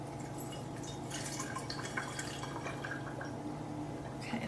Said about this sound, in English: I'm going to take my ginger bug with a strainer, and I'm going to strain about a 1/4 cup of ginger bug into my bottle